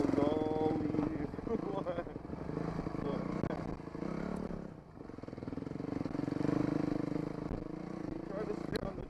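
A dirt bike engine drones steadily and loudly at close range while riding a forest trail near the flumes of central Oahu, Hawaii, with a rough, constant motor tone that dips briefly midway.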